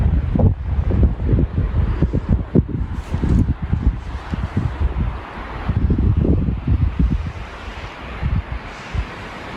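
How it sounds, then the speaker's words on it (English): Heavy wind blusters against the microphone on the North Ridge of Mt Stuart at sunrise, a constant low roar with sharper gusts surging and fading, no one speaking. "It's a little windy this morning"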